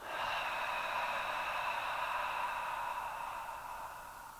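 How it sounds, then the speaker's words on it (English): A Hawaiian ha breath, one long, forceful breathy exhale that sounds close and clear, fading slightly at the end, with no speech. "That's called a ha breath."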